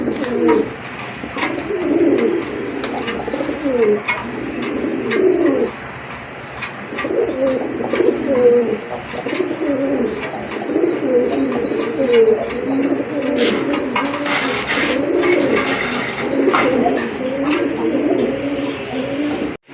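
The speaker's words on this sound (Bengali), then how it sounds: "আরেক জোড়া রাজগোল্লা কবুতর খুবই সুন্দর" Rajgolla pigeons coo close by, repeating their rounded, throaty calls in bursts that go on steadily over a faint background hiss.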